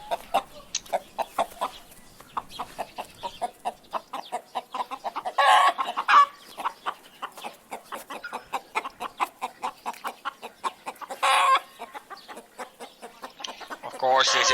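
Chickens cluck in a video game, a busy run of short, rhythmic clucks repeating steadily for many seconds, with a couple of louder squawking bursts standing out, close and alone without talk.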